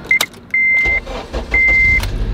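Mugen Honda Civic Si FA5 starting off after a repaint, with several steady electronic beeps, clicks and mechanical thumps, then engine rumble building low underneath, loud and close with no talking.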